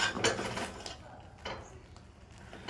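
Finger millet omakkali being stirred in a pan, with a few scraping, clinking strokes of a spoon against the metal, fairly close and quiet, no voices.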